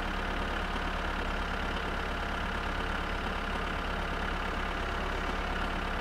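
A tractor engine runs steadily in the My Summer Car game, a constant low, droning rumble with no changes in pitch or pace.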